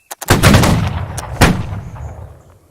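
A volley of gunfire in a video game, with a few sharp pops and then a loud, dense burst of overlapping shots that decays, followed by a second heavy crack and a fading echo.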